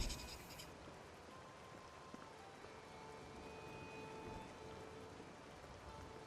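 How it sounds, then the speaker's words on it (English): Rain falls in the video game Oblivion, a faint, steady hiss of drops that continues throughout with a light pattering texture and no voices. "my friend, it is raining."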